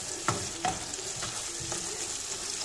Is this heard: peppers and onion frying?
yes